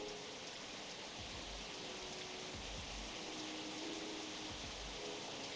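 Rain in a video game hisses as a steady, quiet broadband wash with occasional low thumps underneath, with no one talking.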